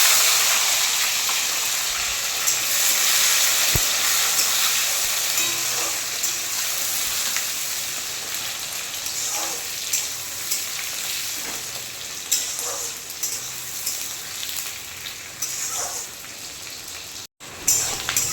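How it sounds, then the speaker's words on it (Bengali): Onion, half a tomato and cumin seeds fry in a pan for a mutton curry, making a loud, steady sizzle throughout with faint stirring scrapes and no talk. "অল্প একটু জিরে ফোড়ন দিয়ে নেড়ে চেড়ে অল্প পেঁয়াজ আর আধখানা টমেটো দিয়ে দিলাম"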